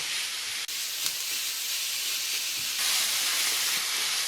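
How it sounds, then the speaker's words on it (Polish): Mushrooms fry in a pan, giving off a steady, continuous sizzle and hiss that swells slightly toward the end, heard close with no talking. "Pieczarki puszczą płyn, więc będę to smażać aż ten płyn odparuje."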